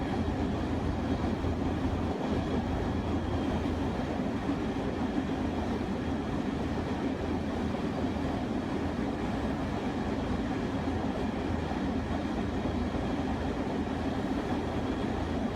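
A Metrolink train on the San Bernardino Line in Train Sim World 5 rumbles steadily along the rails, a constant low, dense roar with no talking.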